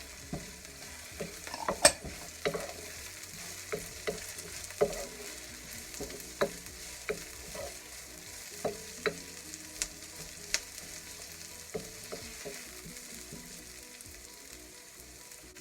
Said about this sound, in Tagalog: Gisa lang natin hanggang maluto ang sibuyas